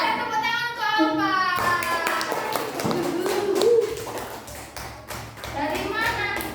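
A run of sharp hand claps rings out in a classroom, quick and fairly close, interleaved with a teacher talking and children's voices.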